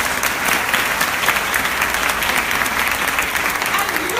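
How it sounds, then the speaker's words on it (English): An audience applauds steadily and loudly at a bookstore author event, a dense, even clatter of many hands clapping that continues without a break. "So I think I want to applaud her."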